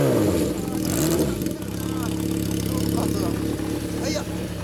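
A fully customized early Yamaha XJ400 with a detached, unbranded muffler rumbles close by, revving up and settling back under people chatting nearby.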